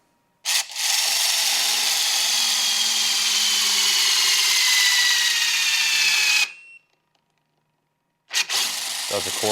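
A power wrench spins wheel bolts on a Porsche GT4 RS with blue magnesium wheels, one loud continuous whirring whine of about six seconds with slowly falling pitch, then silence before another short burst starts.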